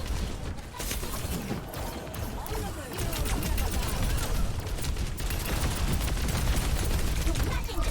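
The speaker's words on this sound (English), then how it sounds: "A lot of times when you're playing Diva, you basically check people's HP with your cannons" Rapid cannon fire from the D.Va mech in Overwatch, a dense continuous barrage of sharp gunshot bursts with mechanical clatter, loud and steady throughout.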